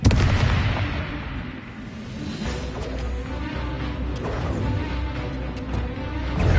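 Bombarda explosion spell in Hogwarts Legacy, a dense stretch of booming blasts and cracking impacts in a continuous spell-combat din, fairly loud throughout with a voice faintly present.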